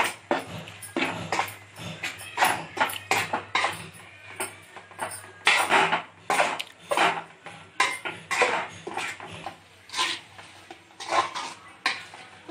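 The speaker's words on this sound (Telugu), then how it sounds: "కొబ్బరి వేసుకొని బాగా కలుపుకోవాలి." Grated coconut for coconut laddu is stirred in a pan, a spoon knocking and scraping against the metal in regular clinking strokes, fairly close and quiet.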